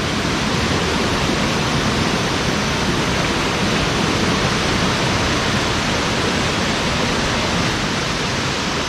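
A jungle waterfall in Himachal roars steadily and loudly, a dense unbroken rush of falling water filling the whole stretch without pause.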